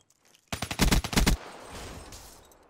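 Call of Duty gunfire, a sudden rapid burst of about a dozen loud close shots lasting under a second, then a fading echo and quiet game ambience.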